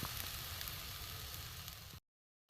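Spices sizzle in a pan of cauliflower with water added, a steady, close hiss of frying that runs for about two seconds and then cuts to silence before briefly returning.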